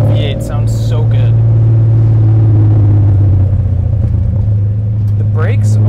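Deep, even V8 rumble from a BMW E39 M5 fills the cabin at a steady cruise, the low drone holding constant throughout.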